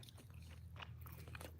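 Close-up chewing and biting of breakfast food by someone sitting near a microphone, with soft crunches and mouth sounds over a steady low hum, continuous through the short moment.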